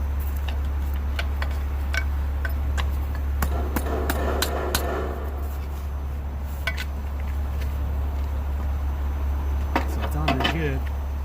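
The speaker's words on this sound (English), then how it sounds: "we'll use our J wrench to tighten it the rest of the way" A J wrench tightens a hose fitting on a truck, giving sharp metallic clicks and clanks in irregular bursts over a constant low engine hum, with a person talking in between.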